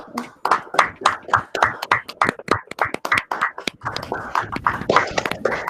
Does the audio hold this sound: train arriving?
no